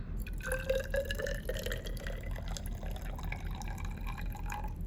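Hydrochloric acid poured from a bottle into a graduated cylinder, a soft trickling and dripping stream of liquid running for several seconds, close and fairly quiet, with no one speaking.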